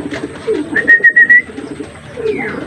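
Racing pigeons in Santa Maria, Isabela, give a close, loud run of short cooing notes amid a soft flutter of flight and light background rustle.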